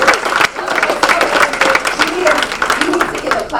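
Steady applause from a group at a Rotary officers' installation, brisk clapping throughout with some voices underneath.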